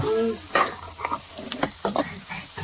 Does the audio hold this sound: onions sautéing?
yes